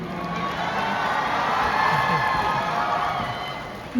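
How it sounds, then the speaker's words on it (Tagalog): A large concert audience at a show cheers and shouts in a steady, sustained roar, broad and loud throughout, with scattered whoops rising from the crowd. "Wow, what an amazing crowd."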